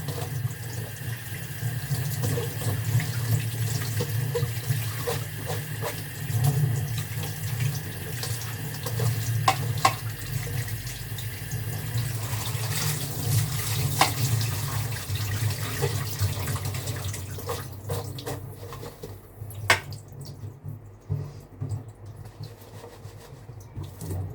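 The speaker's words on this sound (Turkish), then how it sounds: "Salata da yapsanız kıvırcığı yıkayın." A kitchen tap runs in a steady, hissing stream as curly lettuce is washed under it, with faint handling rubs; the flow eases off toward the end, and no one talks.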